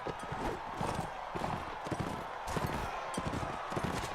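Horse hooves clop in a quick repeating gallop rhythm as a rider moves through a tournament in Mount & Blade: Warband, steady and fairly close with soft background game ambience.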